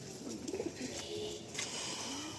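Pigeons in a loft of Madrasi breed birds coo softly, a few low rolling calls rising and falling near the listener over a quiet background hum.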